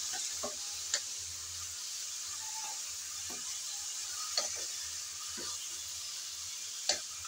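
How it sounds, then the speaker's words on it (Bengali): Bathua greens fried in oil, a steady bright sizzle with scattered clicks and taps of a spatula stirring against the pan, a few sharper knocks standing out, no one talking. "শাকগুলো দিয়ে নেড়ে চেড়ে ভালোভাবে মিশিয়ে নিতে হবে তেলের সাথে।"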